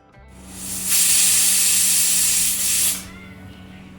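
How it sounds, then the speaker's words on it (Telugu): A pressure cooker whistle: a loud, steady hiss of steam bursts out for about two seconds and then cuts off, leaving a low hum underneath. "కుక్కర్ మూత పెట్టుకొని ఒక 10-15 విజిల్స్ వచ్చే వరకు ఉడకబెట్టుకోవాలి"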